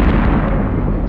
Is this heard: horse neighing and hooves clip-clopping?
no